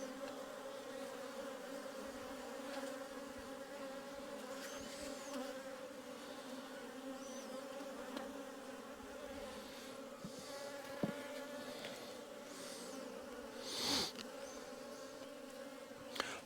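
Honeybees buzz during a spring hive inspection of a weak colony. A dense, steady drone fills the whole stretch, with individual bees flying close past now and then.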